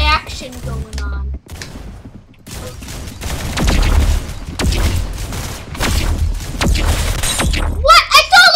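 Gunfire in a Roblox game: rapid bursts of sharp shots and shattering impacts crowd the middle of the clip, loud and repeated, with a young player's voice talking before and after.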